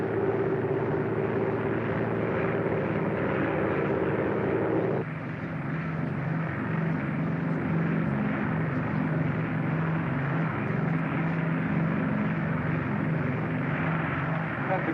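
Propeller airliner on a runway during takeoff, a steady loud engine drone with a shift in pitch partway through as power changes, heard from inside the aircraft.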